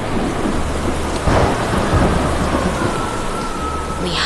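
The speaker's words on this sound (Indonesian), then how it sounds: "Lihatlah badai besar itu." Heavy rain pours steadily over the length of the clip, and a rumble of thunder breaks through the downpour.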